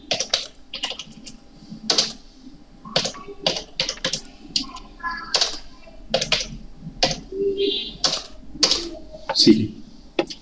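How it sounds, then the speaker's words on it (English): Computer keyboard keys tapped in short irregular bursts during an AutoCAD drafting lesson, each keystroke a crisp close click, with someone talking in between. "Whatever I will type it here"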